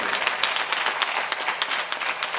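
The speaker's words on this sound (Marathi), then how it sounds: "या सगळ्या मुलांकरता टाळी वाजव सर्वांनी" Audience at a Marathi kirtan in Dhorewadi applauding for a group of children, steady dense clapping throughout, close and moderately loud with no voices over it.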